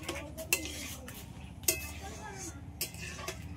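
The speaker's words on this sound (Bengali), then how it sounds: "সবগুলো একসাথে একটু ভালো করে মিশিয়ে নেব" Suji halwa mixed with grated khoya kheer is stirred in a pan, with a few light scrapes and clinks of a spoon against the metal under soft speech.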